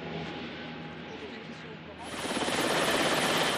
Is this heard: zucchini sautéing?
no